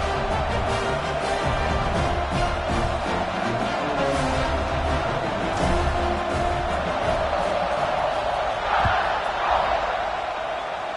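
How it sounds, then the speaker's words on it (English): Stadium crowd at an American football game during a kickoff after a touchdown, a dense, steady roar of many voices that swells slightly near the end, with scattered whoops rising above the sustained din. "You think this crowd's going to get loud when their defense comes on the field?"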